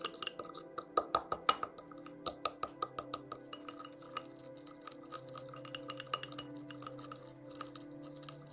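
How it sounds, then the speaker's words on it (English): Glass rod crushing crystals in a glass container of solvent, a close run of small sharp clinks and taps, quick and irregular at first, then sparser, ringing faintly, with no talking. "You can see me using this rod to crush the crystals to help the solvent get to them."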